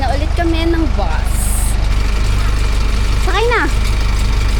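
A steady low bus engine rumble idles throughout, with people talking over it and a brief high hiss partway through.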